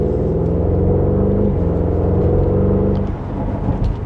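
A 2026 Porsche Cayenne GTS accelerates hard, its engine a loud, steady roar with rising harmonics over about three seconds before easing off, and no voices.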